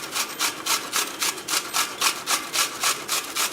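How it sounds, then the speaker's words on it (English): Beetroot rubbed against a kitchen grater for Kerala beetroot toran, a steady run of about a dozen evenly paced rasping strokes, close and fairly loud, with no voices. "Take about 1 large beetroot or 2 small beetroot and grate them in a grater"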